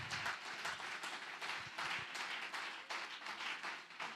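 A church congregation applauds during a sermon, with dense, steady clapping from many hands that fills the whole stretch without pause.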